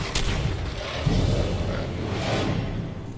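A grenade explodes in Fallout 4 with heavy, booming blasts and rumbling debris. Several loud thuds hit close by across the few seconds.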